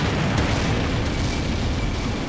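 An artillery barrage falls on German positions in the Combat Mission: Beyond Overlord war game, a dense, continuous roar of overlapping explosions filling the whole stretch with no speech.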